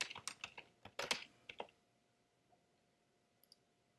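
A quick burst of close typing on a computer keyboard, with rapid clicking keystrokes for about a second and a half, then near silence apart from a couple of faint late taps.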